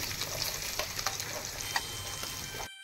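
Onion frying in a pan with chilli, tomato and ginger-garlic paste, a steady close crackling sizzle with scattered pops, cutting off briefly near the end.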